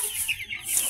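Rhode Island Red chickens on a farm cluck in short, close bursts over soft background noise, with day-old chicks kept nearby.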